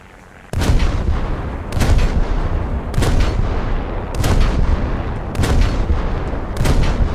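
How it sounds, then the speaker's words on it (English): Naval gun in the video game War Thunder firing high-explosive and armor-piercing shells: six loud, booming shots spaced about a second apart, each with a heavy rumbling tail, close and without talking. "It fires high explosive variable timed shells and armor piercing ballistic cap shells."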